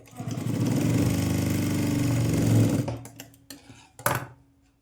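A sewing machine stitches a blouse in one steady, loud whirring run of close even pulses for nearly three seconds, then stops and leaves a few light clicks and handling knocks close by.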